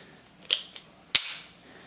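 Two sharp metallic clicks from a Heritage Rough Rider revolver as the loading gate is closed and the base pin is pushed back in, the first lighter with a small tick after it and the second louder with a short ring, close and alone.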